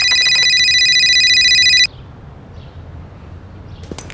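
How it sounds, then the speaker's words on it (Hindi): A telephone rings with an incoming call, a steady electronic ringtone of stacked bright tones lasting nearly two seconds, then cutting off into quiet room background, with a faint chirp near the end. "फिर 1 घंटे बाद रंजीत ने कॉल किया मुझे।"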